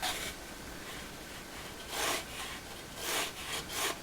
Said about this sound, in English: Now I'm just drawing with a mechanical pencil.